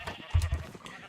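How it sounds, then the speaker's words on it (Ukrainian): Sheep bleat in a pen where a flock has been herded in after grazing, ready for milking by shepherds; a short, low, wavering bleat sounds up close, with faint farmyard noise around it. "Никайте, там вівці, котріся напасли, їх зогнали"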